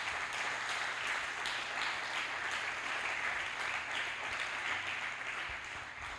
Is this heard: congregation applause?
yes